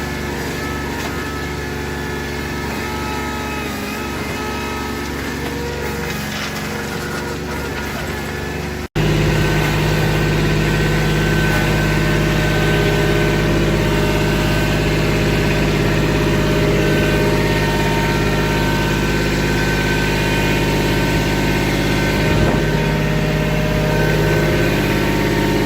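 Kubota backhoe diesel engine idling steadily, then growing louder and heavier as it loads and dumps landscaping material, a constant close mechanical drone with no talk.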